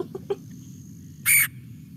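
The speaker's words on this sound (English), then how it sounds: "Kind of a rough, shrill scream or chirr, as opposed to that rolling sound of the red-bellied" A red-headed woodpecker gives a single rough, shrill scream, loud and close, after a few faint soft chips.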